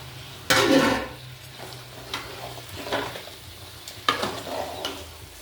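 Chopped tomatoes softening in a pan for a Sunday chicken lunch, giving a low steady sizzle broken by a few louder scraping stirs, no talking.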